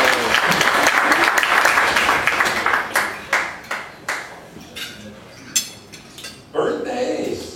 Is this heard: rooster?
no